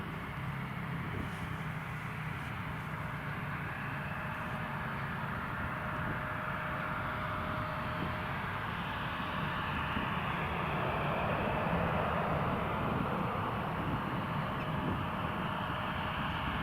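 An airliner takes off at Newcastle International Airport, a steady broad jet roar with a faint whine, heard from a distance and building slightly in the second half.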